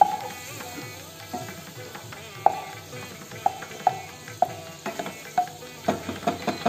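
Ghee melting and beginning to sizzle in a cooking pan, a soft steady frying hiss broken by small sharp crackles and pops that grow more frequent toward the end.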